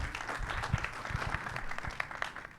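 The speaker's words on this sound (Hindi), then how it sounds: "शबाना जी के लिए एक बार जोरदार ताली होनी चाहिए" Audience applause at a film trailer launch event, a soft, steady patter of many hands clapping at a distance, fairly faint throughout.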